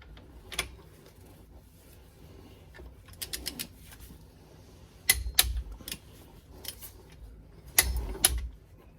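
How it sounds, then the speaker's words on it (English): A torque wrench tightens the differential drain plug, fitted with a crush washer, to 35 foot-pounds on a Honda Ridgeline. Short bursts of sharp, close metallic clicks are separated by quiet gaps over low background noise. "I'm gonna go ahead and torque it to 35 foot-pounds"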